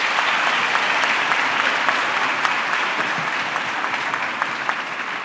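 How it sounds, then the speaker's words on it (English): An audience at a World Religions Summit session gives a big, sustained round of applause for the moderator, the dense clapping holding steady and close for the whole stretch without talk. "A big round of applause for him."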